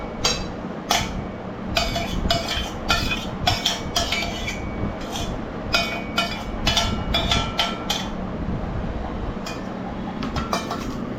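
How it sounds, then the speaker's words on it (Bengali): Cooked white rice tipped from a takeaway container onto a plate at a hotel, giving a run of light clinks and scrapes of utensils and dishware, close and moderately loud, with steady low background hum. "চলো রাইসটাকে প্লেটে ঢেলে নিই।"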